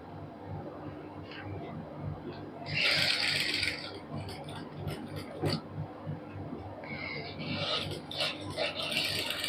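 A sewing machine stitches lace onto a salwar in short, close bursts of rapid mechanical whirring, with a quieter stretch between runs and low talk in the background.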